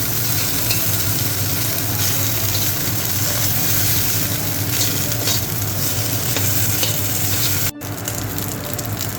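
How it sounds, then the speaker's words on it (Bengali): Green chili paste frying in a pan with oil for a bitter gourd bori dish, giving a loud, continuous close-up sizzle with stirring scrapes throughout and no talking. "কাঁচা লঙ্কা বাটাটা দিয়ে দিচ্ছি আমি এটাকে ভালো করে ভেজে নেব"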